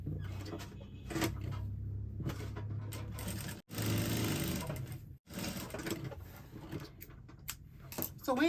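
A sewing machine stitching the side seam of a two-layer dress with a pencil skirt: a steady close whirring motor hum with rapid needle chatter, cut by two brief stops, alone without talk.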